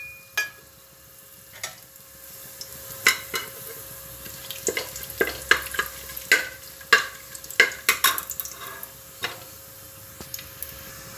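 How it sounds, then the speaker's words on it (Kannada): Fennel seeds and bay leaf dropped into hot oil crackle and pop in quick, scattered bursts over a faint low sizzle, close up. "ಈಗ ಎಣ್ಣೆ ಕಾದಿದೆ ಇದಕ್ಕೆ ಸೋಂಪು ಕಲ್ಲು ಬಾತೆಲೆ ಹಾಕ್ತಾ ಇದೀನಿ"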